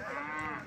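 A cow at a livestock bazaar in Urzhar, Kazakhstan, gives one loud, close, sustained moo that lasts the whole moment, with no talking.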